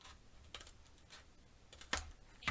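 Scissors snipping through cardstock while a mini album is assembled, a few sharp close cuts spaced irregularly with the loudest near the end, no voices.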